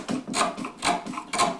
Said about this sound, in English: I'm chiseling out now along here